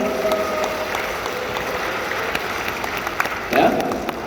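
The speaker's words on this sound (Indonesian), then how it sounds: "Boleh saya mendengar lagi tepuk tangan dan gembira dan semangat?" Audience applause at a motivational session for civil servants, steady crowd clapping with a brief louder swell near the end and some voices mixed in.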